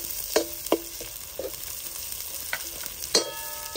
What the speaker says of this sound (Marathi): हिरवी मिरची पण चिरलेली बारीक, ती पण टाकून घ्यायची. हे एकदा चांगल्या प्रकारे परतून घ्यायचे.